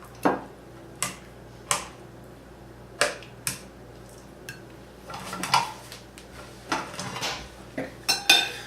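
Vegetables, including broccoli, are plated onto a dish beside a steak, giving a series of sharp close clinks and taps of utensils against the plate, spaced irregularly and then clustering more quickly toward the end.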